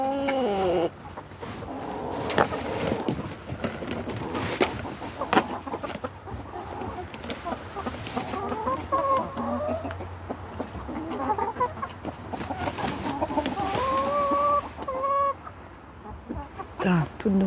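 Ameraucana hens and several roosters clucking while being fed in a yard in January, a steady busy stream of overlapping clucks and squawks close by, with someone speaking briefly at times.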